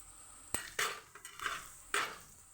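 Onion being added and stirred into a pan of Kathiyawadi aubergine masala: a few sharp clinks and scrapes of a utensil against the pan over a faint, low sizzle in a quiet kitchen.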